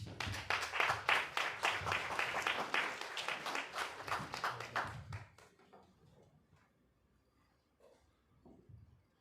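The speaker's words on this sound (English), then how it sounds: "Please, I would like you to again clap your hands for Dr. Orlando." A crowd applauds a speaker, Dr. Orlando, at a conference, with dense clapping for about five seconds before it quickly dies away to near silence and a few scattered claps.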